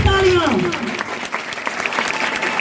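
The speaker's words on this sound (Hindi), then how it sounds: "जोरदार तालियां इनके लिए" Applause for students at a farewell celebration at a coaching institute, a broad steady patter of clapping hands that stays loud throughout, with a voice speaking over the start.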